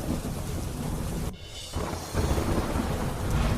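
Rain falls steadily with thunder rumbling over it and gusting wind in a monsoon downpour, loud and continuous apart from a brief dip in the middle.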